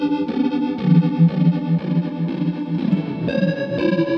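Enzo synth guitar pedal playing sustained chordal notes that shift pitch every second or so, with a chorus-like, modulated, slightly distorted shimmer; loud and continuous with no talking.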